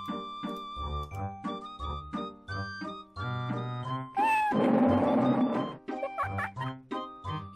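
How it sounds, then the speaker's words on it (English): Repeated meows from a cat in the Quest for Glory IV: Shadows of Darkness adventure game, loud, over a looping synthesized game melody with a rising squawk in the middle. "Why a cat noise?"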